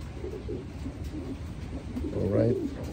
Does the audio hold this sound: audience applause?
no